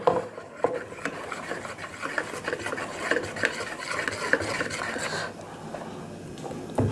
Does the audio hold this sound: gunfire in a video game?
no